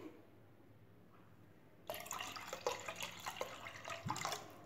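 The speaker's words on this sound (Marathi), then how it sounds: "फ्रीजमधलं किंवा माठामधलं थंड पाणी टाकायचं आहे" Quiet at first, then cold water splashes and trickles for a few seconds as it is poured, close and moderately loud.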